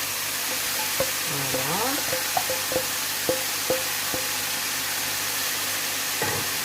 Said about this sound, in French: Je vais rajouter les oignons émincés.